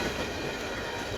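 A train rolls across a bridge by a river, giving a steady, continuous rumble with faint rail clatter close by, and no voices.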